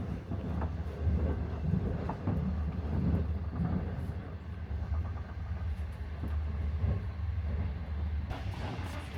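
Inside a carriage of the K7039 sleeper train running from Harbin toward Mohe, a steady low rumble of wheels and movement continues with faint, irregular clacks throughout.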